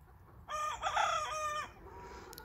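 A rooster crows once at close range in a long harmonic call among backyard hens, followed by a brief quieter cluck.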